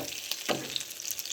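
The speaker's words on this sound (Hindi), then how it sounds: "फ्राई हो गया तो दूसरी साइड इसको पलट दिया।" Potato snack sizzling in oil in a pan for an Indian breakfast, then flipped over; a close, steady frying hiss with a soft scrape from the turn.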